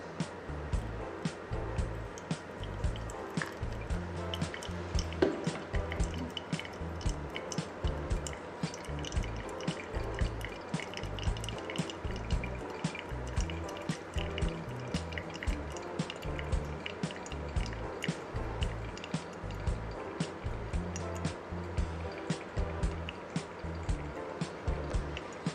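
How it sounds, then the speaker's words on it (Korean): Hot water is poured over coffee grounds for pour-over brewing of a fruity blend: a soft, continuous trickle and drip runs throughout under steady rhythmic background music. "48g을 부어줍니다."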